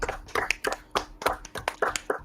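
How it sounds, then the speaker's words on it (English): A short, close round of clapping from a few people on a podcast, quick uneven claps for a couple of seconds. "We didn't give a round of applause for that."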